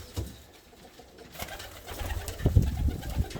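Russian pigeons coo softly inside a coop, low rounded calls rising toward the end of the clip over faint background rustle, with no talk.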